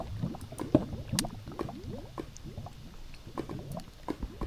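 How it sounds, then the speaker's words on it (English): Running water in a modded Minecraft world, bubbling and gurgling with soft splashy pops and trickles at close range, continuous with no talk. "I hear water."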